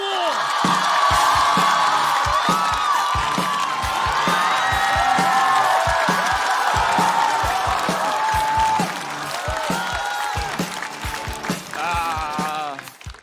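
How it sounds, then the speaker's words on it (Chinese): A large studio audience at a stand-up comedy show greets a comedy duo with loud, sustained applause, whoops and cheers, a dense steady roar that eases slightly toward the end. "掌声有请"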